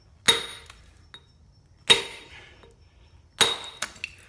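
A six-pound hammer striking stone while shaping a headstone base, three sharp ringing blows spaced evenly apart with a fainter knock after the last, in a quiet setting.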